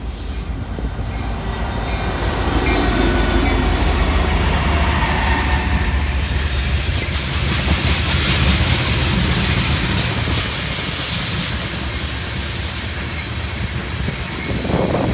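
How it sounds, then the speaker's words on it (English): A freight train rolls past on railway tracks heading into Winnipeg, a loud, steady rumble and rattle of cars that stays constant throughout, with no talking. "I found this train heading into town"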